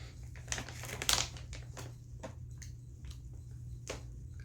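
Plastic packaging crinkling and rustling as it is handled up close, a series of irregular crisp crackles with one louder burst, over a low steady background hum.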